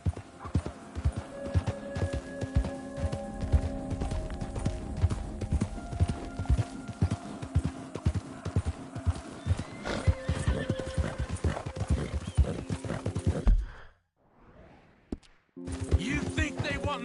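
Horse hooves clip-clop steadily in Red Dead Redemption 2 with occasional neighs and whinnies, and characters talk over them. The sound cuts to near silence for a moment near the end, then resumes.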